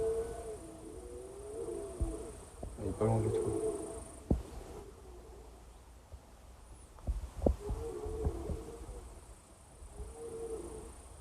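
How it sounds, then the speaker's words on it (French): A low, drawn-out bellowing roar from a red deer stag rises and falls in the distance in a forest, under quiet voices and wind, with a couple of nearby knocks. "les cris des cerfs, enfin le brame."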